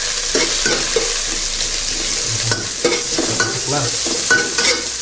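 Onion and garlic fry together in oil in a pan, giving a loud, continuous sizzle. Stirring strokes add uneven scraping bursts on top, and one voice briefly speaks over the frying.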